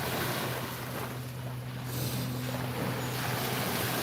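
Ocean waves wash in a steady, broad roar with wind noise on the microphone, a continuous moderate wash with no talk.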